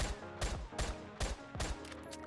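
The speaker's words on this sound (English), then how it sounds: "she's still firing the same SMG" Submachine gun fire from Goddess of Victory: NIKKE, four loud, evenly spaced bursts of rapid shots with short gaps between them, no voices over it.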